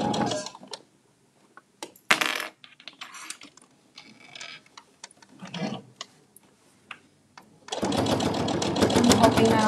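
A sewing machine top stitches binding onto a fabric Sew Together bag, first in a few brief stops and starts amid quiet handling and talk, then running in a fast, steady, loud burst of rhythmic needle strokes.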